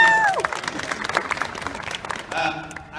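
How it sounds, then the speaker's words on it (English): An audience at an anime convention Q&A panel claps in a burst of applause, with crowd noise and voices mixed in over the clapping. "Give her a round of applause."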